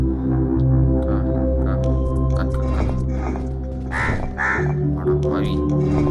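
Crows caw in the puzzle game Monument Valley, with a few harsh calls bursting out over a steady, droning musical soundtrack that runs throughout.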